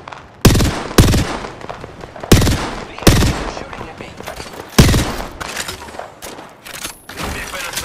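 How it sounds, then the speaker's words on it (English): Enemy gunfire in the battle royale game Apex Legends: loud, close bursts of automatic shots in several separate volleys, with a dense mix of game sound between them. "The enemy is shooting at me."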